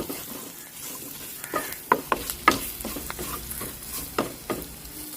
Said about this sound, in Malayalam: പച്ചമുളക് ഒന്ന് വാടണം.